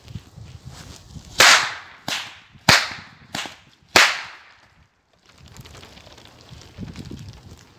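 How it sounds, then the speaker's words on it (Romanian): Five sharp cracks from a chain whip with a braided tip come in a quick uneven burst, loud and close, followed by a stretch of soft rustling background. "cam așa bucuie biciu din lanț"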